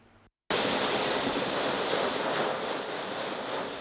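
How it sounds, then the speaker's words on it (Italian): Sirocco storm surge waves pounding the Trieste coast, a loud, continuous wash of surf and wind noise that starts abruptly after a brief quiet moment and stays broad and roaring, easing slightly toward the end. "La prima bomba d'acqua con annessa sciroccata e mareggiata sulla costa poco dopo mezzogiorno."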